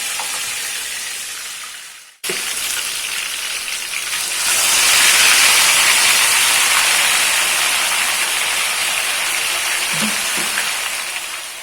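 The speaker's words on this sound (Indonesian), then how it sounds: "sekarang giliran kita menggoreng tahu dan tempe" Loud, steady sizzling of tofu and tempeh frying in very hot oil, a dense crackling hiss that swells after a brief cut and continues without pause.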